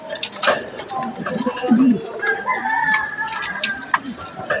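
A rooster crows nearby amid clucking fowl, with people talking over the birds throughout, in San Isidro, Nueva Ecija.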